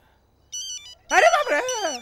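A brief electronic ringtone chirps in short beeping tones, followed by a louder melodic ring or voice-like tone close up.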